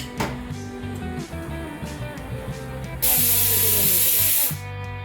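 Steam bursts from a pressure cooker during the cooking of a mango pulissery curry: a loud, steady hiss starts abruptly partway through and holds for about a second and a half over a tonal kitchen hum, then cuts off.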